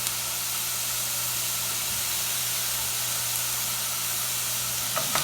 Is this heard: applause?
no